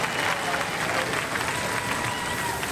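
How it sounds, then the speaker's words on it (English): Studio audience applause on the Robot Wars television show, a continuous wash of clapping heard faintly and slightly muffled, with a voice talking over it. "them a round of applause, ladies and gentlemen."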